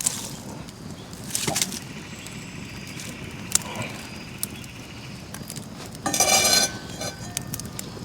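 A metal pan set down over a campfire with oil during outdoor camping cooking. A few sharp clinks and a brief clattering scrape sound close by over a low crackling background.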